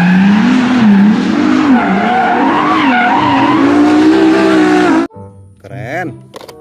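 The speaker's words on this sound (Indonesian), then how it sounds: "Mobil balap." Toy race car sound effect with engine revving and tires skidding, a loud continuous whine for about five seconds, then a brief sharper squealing burst after a short drop.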